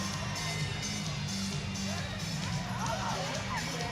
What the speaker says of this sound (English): a really, really good crowd here in South Alabama